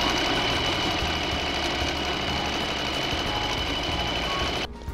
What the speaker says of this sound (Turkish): Açık bıraktığım alanı da dikiyorum.